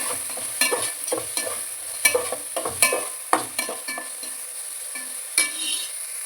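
Onions or aromatics sauté in hot oil in a pan for coconut milk rice, with a continuous sizzle broken by repeated scrapes and clinks of a spoon stirring against the pan, close up.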